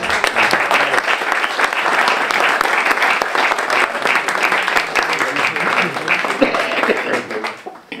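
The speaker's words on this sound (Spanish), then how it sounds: "Pido un aplauso para ellos." A dinner crowd at a Rotary club twinning event between San Pedro and Orleans applauds new members with loud, dense clapping that runs steadily for several seconds, then begins to thin toward the end.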